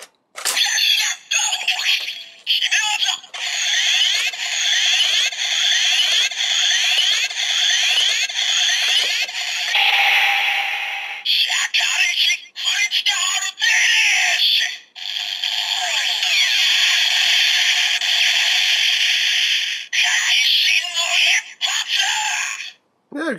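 A Kamen Rider Ex-Aid DX Gashacon Breaker toy plays its critical finish effect for Shakariki Sports, a long, bright, electronic burst of jingles, announcer-style voice and crackling effects, broken by short pauses, loud and close.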